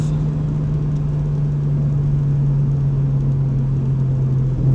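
A Nissan R32 GTR engine holds a loud, steady, close-up drone at constant pitch that runs unbroken throughout with no talking.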